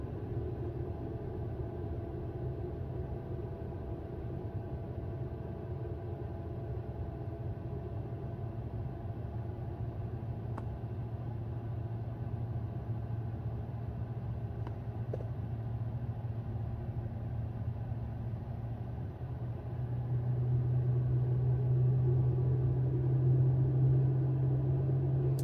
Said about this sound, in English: I definitely can hear the radiator fan kick down below the car, or in front of the car, wherever it is.